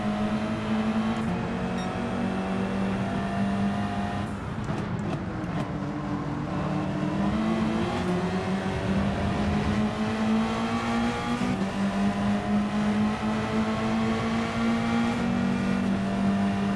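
A front-wheel-drive Group 4 race car in the Gran Turismo video game drones loudly and continuously as the engine climbs and falls through gear changes and revs, with no talk over it.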